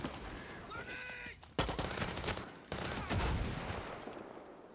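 Bursts of automatic gunfire fired from the hip in Far Cry 6, a shooter video game, loud and close, two dense volleys after a quieter lead-in.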